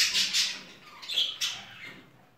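Japanese Jumbo crested budgerigars chirping and squawking in a cage, a few sharp high calls in quick succession, close and fairly faint, with no talk.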